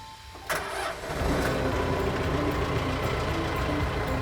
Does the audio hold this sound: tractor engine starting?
yes